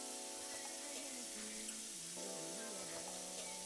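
Water is poured into a blender jar to juice fresh fruit, making a steady rushing, splashing flow that runs continuously and fairly quietly throughout, with no talking.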